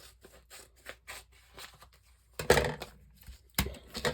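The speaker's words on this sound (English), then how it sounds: "I need to do a little trim there so that it fits on the cutting plate." Scissors trim a scrap of masking paper for a card-making die-cutting plate, a series of soft snips and rustles ending in two sharper, louder cuts.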